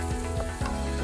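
Pork sizzles and fries in a hot pan, a steady close crackle with faint scraping stirs over a short moment.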